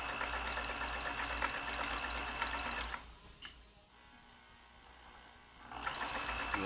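A vintage Janome Combi DX 502 sewing machine runs in a loud, fast rhythmic stitching burst, stops for a few seconds of near quiet, then starts stitching again at the end, close up.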